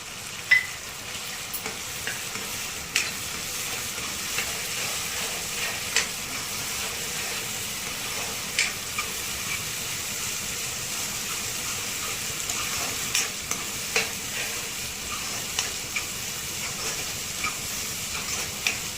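Two spoons of chili powder frying in oil with cooked-down tomatoes for an Andhra-style chicken gravy: a steady close sizzle over the whole stretch, broken by repeated light scrapes and clicks of stirring.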